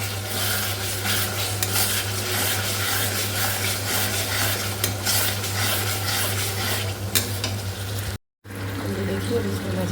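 Paneer curry fries on a high flame while being stirred, giving a steady loud sizzle with wet scraping and stirring strokes over a constant low hum, broken by a brief dropout near the end.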